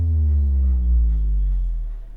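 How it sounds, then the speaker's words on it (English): A deep subsonic boom from Apple's sound library for a pop pre-chorus, a sustained low rumble with a slowly falling pitch that fades out over about two seconds. "the final thing which I added for the pre-chorus was a subsonic boom, which I found in Apple's library"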